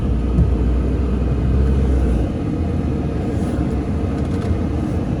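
A 2002 Chrysler Concorde Limited drives on snow, making a steady, close low rumble of engine and tires that continues without a break.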